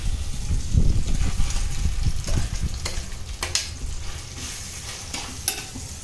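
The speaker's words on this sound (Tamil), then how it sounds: "அரைச்சதை நல்லா வதக்கணும்." Ground masala paste for chana masala sautéing in a pan, with steady sizzling and frying plus repeated stirring scrapes across six seconds, fairly close and loud with no talk.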